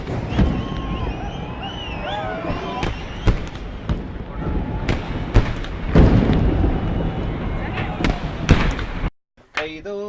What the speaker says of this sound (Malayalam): വെടിക്കെട്ടിന് തിരികൊളുത്തി കഴിഞ്ഞു.